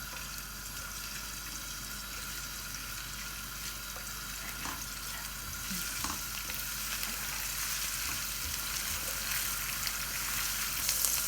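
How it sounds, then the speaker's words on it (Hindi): Garlic and ginger paste fries in hot oil for Chinese chicken fried rice, giving a steady, close, crackling sizzle that grows slightly louder toward the end, with no talking. "1 टीस्पून जो हमने गार्लिक एंड जिंजर का पिसी हुई का लिया था वो भी ऐड कर रहे हैं। भून लेंगे थोड़ा सा।"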